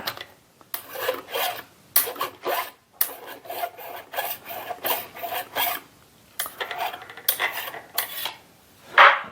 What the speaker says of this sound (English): Probably gonna have to take countersink and just open that hole up a little bit.